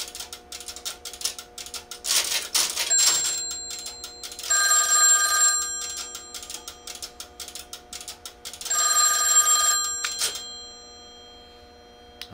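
An extension rings on an OKI AC125A crossbar PBX that was dialed from a touch-tone phone. The bell rings loudly in two or three long bursts with pauses between them, alongside clicking relay and switching mechanisms.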